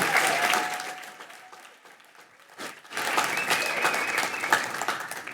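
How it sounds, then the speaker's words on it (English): An audience at a youth advisory council candidate forum claps, first in a fading round, then a fresh, louder burst of sustained applause, with a faint tonal hum running under parts of it. "can we give a big round of applause for Amber and everybody else who's part of the Mayor's Youth Advisory Council"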